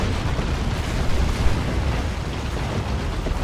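Blaster fire strikes an Ork looted tank during a Dawn of War 2 Space Marines versus Orks battle, producing a dense, continuous rumble of overlapping blasts and bursts with no voices.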